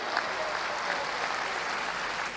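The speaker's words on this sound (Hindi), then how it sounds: "एक बार आपकी जोरदार तालियां।" An audience at a Hindi poetry recitation claps loudly in a continuous, even roar of applause, many hands blending into a dense wash with no voices heard.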